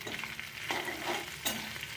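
Fish head pieces fry in a pan, giving a steady soft sizzle with scraping stirring sounds and a few sharper clatters, close and fairly quiet, no voices.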